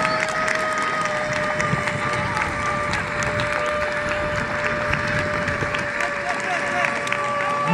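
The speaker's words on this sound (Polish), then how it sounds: "Brawa, proszę Państwa, brawa!" A crowd at a volunteer fire brigade competition applauds steadily, a continuous wash of clapping under a loudspeaker voice talking over it.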